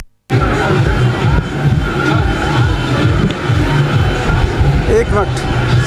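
Crowd of visitors at a Durga Puja pandal fair in Darbhanga, a dense, loud murmur of many voices with nearby speech running over it.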